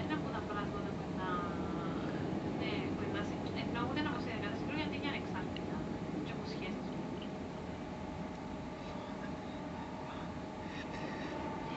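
Interior of GWR train 802106 running from Paddington to Slough, with a steady rolling rumble and rail noise throughout while people chatter nearby.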